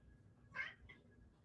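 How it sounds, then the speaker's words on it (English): A cat gives a short, faint meow followed by a softer second chirp, heard alone against quiet background. "The cat."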